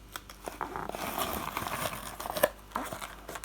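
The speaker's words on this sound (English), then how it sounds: "I'm just cutting it along there so that I can fold this part up" Scissors cut along the edge of a piece of card for a decorative box, giving a series of close crisp snips and crinkling rustles of the card being handled, with no speech.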